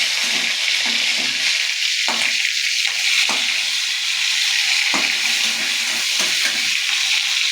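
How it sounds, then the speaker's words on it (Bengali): Tomato and bay leaf fry in hot oil in a pan for a vegetarian banana-stem curry, with a steady loud sizzle and hiss and a few sharp scrapes and clicks from stirring. "একটু টমেটো দিয়ে দিলাম দিয়ে নাড়িয়ে নিতে হবে ভালো করে"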